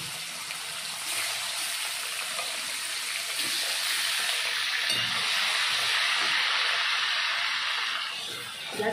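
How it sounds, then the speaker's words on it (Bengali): Chicken pieces frying in a pan, with a loud, steady sizzling hiss that swells slightly and holds for the whole stretch. "দেখো এবার চিকেনগুলোকে ভাজবো"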